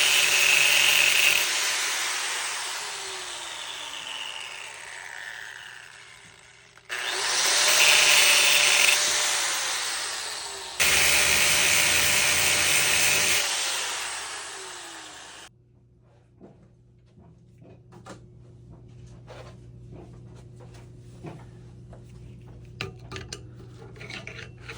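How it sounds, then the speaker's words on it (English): Angle grinder cutting into a Yamaha FZ07 motorcycle fork part in three long loud bursts of whining, scraping metal, each winding down, then quieter clinks and handling noises. "I'm just gonna go ahead and get the grinder out and get to work on that bad boy"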